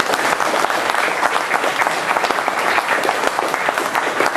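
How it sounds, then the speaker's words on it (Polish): Sustained audience applause at a Republican Foundation second-birthday event, dense steady clapping from a large crowd throughout, loud and close with no speech over it. "Wielkie brawa dla Bartka."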